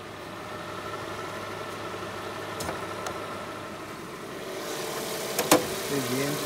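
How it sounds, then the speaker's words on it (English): A car engine idles with a smooth, steady low hum, with a few faint clicks and a brief knock near the end. "Nice, smooth engine."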